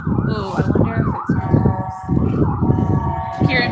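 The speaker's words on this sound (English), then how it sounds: "There's an ambulance." An ambulance siren wails in repeated rising and falling sweeps as it passes close by, loud over traffic rumble, with people talking nearby.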